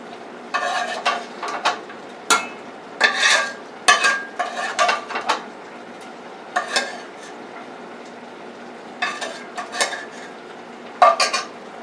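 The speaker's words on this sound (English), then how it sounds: "I mix the onions in with it." Cooked onions are mixed into fettuccine pasta in a pan, with close, clattering bursts of utensil scraping and stirring against the pan, separated by short pauses and a faint sizzle underneath.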